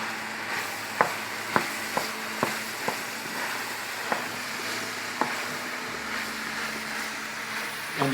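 Diced fresh mushrooms and green pepper stirred into a simmering lasagna sauce, with a steady low sizzle broken by about eight sharp spoon clacks against the pot, spaced irregularly.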